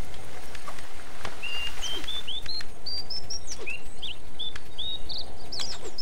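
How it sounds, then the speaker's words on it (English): A bird in the video game Toki Tori 2+ whistles a series of short rising chirps, clear and prominent over a soft background hiss, with no talk. "I can whistle, I'm a bird."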